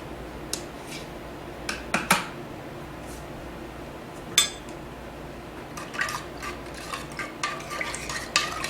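Pickling liquid with cayenne stirred in a pot, a spoon swishing through the liquid and knocking against the metal sides in scattered clicks over a low steady background, close by with no talk.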